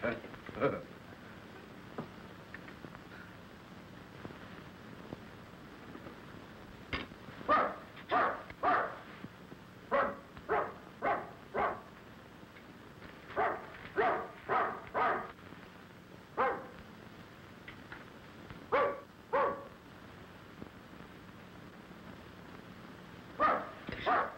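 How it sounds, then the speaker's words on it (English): Dog barking in repeated short bursts, clustered in groups with brief gaps between them, moderately loud and close, over a faint steady background hum. "there's something about that dog I'm starting to like"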